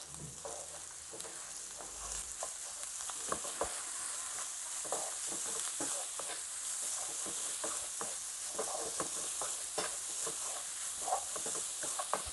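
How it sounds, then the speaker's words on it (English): Onions are stirred in a frying pan for samosa filling, giving repeated scraping strokes over a steady, hissing sizzle, close and moderately loud, with no talking. "Now let's add in the onions. Let's give this a nice good mix."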